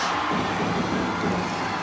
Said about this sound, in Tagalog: Crowd coming alive here in Palayan City.